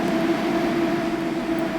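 Train in the Roblox game EveryLift, older pre-revamp Spark City version, a steady droning run with a constant tonal hum over a broad rumble, loud and even throughout with no talking.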